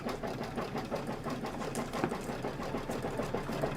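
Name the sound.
embroidery sewing machine stitching fabric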